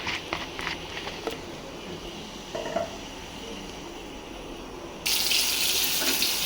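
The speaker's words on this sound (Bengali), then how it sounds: "আগে ধুয়ে নিচ্ছি ভালো করে গরম পানি দিয়ে" Dried fish being washed under hot running water in a home kitchen, with a steady tap stream, light clinks and splashes, then a louder gush of water near the end.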